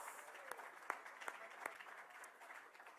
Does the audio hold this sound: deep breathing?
no